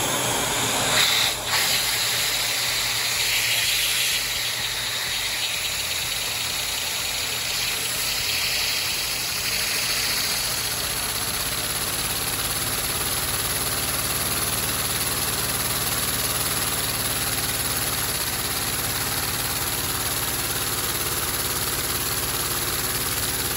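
Three-cylinder vacuum engine built from Lego, running slowly with a steady, close mechanical whir and hiss that carries without a break, with light rapid rhythmic ticking near the start.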